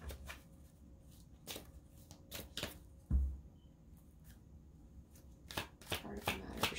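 A deck of oracle cards being shuffled in a reading, with repeated crisp riffling bursts spread through the clip and one sharper tap near the middle, close and fairly quiet, with no voice.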